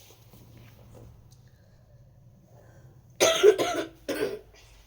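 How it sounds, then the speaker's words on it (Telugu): Two loud coughs in close succession after a few seconds of quiet room hum, the second slightly shorter. "కాఫ్ వచ్చింది, ఏం చేద్దాం"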